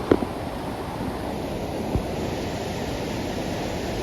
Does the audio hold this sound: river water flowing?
yes